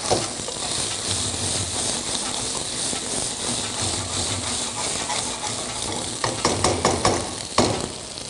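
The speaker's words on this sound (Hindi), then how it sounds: "इसमें ये आलू डाल लेता हूँ जी सीधा" Diced potatoes drop into hot oil already holding sautéed ginger-garlic paste for aloo ki launji, giving a steady, fairly quiet sizzle with a few scraping stirs and clatters near the end.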